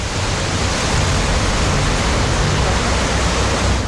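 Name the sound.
roaring water released through dam gates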